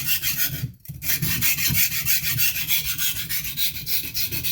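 Steel blade bevel rubbed back and forth on a Norton India combination oil stone, a close, steady rasping scrape in regular strokes with one brief pause near the start and no talking.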